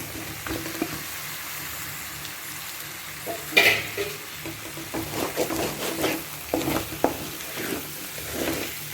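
Boiled raw banana pieces tossed into a pan of sautéed masala for a wedding-style vazhakkai fry, a soft sizzle under repeated scraping and stirring of a spoon against the pan, close and low in level.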